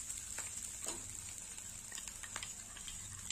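A mixed spice paste sizzles in hot oil while egg curry is being cooked, a faint, steady hiss with light scattered crackles and stirring clicks.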